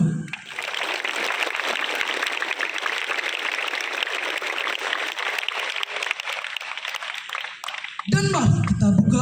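An audience at an evening gathering with hundreds of Islamic boarding school students breaks into sustained, dense applause for about eight seconds, then it cuts off and a voice begins speaking.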